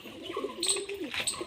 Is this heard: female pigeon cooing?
yes